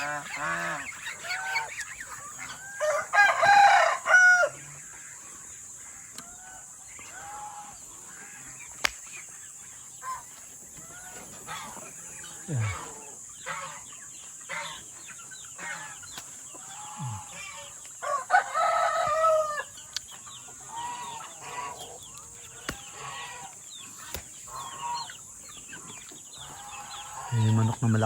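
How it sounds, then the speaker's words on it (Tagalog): Chickens cluck and a large rooster crows on a Philippine farm at night, sporadic calls near and far over a steady high insect hum, with brief talk between bursts. "Ayan yung manok na malaki."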